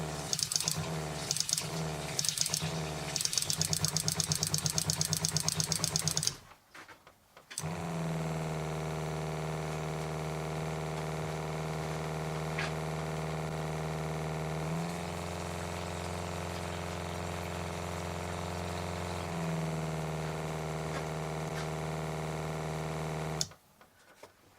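A USA Adventure Gear 5300 RV water pump runs with a steady, close electric hum for most of the clip, shifting slightly in pitch partway through, after a brief stretch of pulsing mechanical noise at the start.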